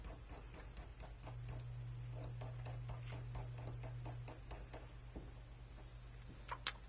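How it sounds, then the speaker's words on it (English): A needle tool scratching cross-hatch lines into precious metal clay, making a quiet, rapid series of short rasping strokes in a steady rhythm, close up, with a low hum underneath. "So I can come in and actually add scratches with the needle tool and add a cross hatching."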